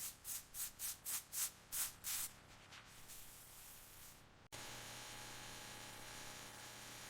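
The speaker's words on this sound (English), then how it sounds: "Wet sanding removes tiny imperfections and prepares the surface for final polishing." Wet sanding the paint of a restored 49cc BMW mini car: rhythmic back-and-forth rubbing strokes, about eight in a row, followed by a steady, continuous sanding hiss at close range.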